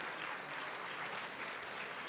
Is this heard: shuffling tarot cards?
no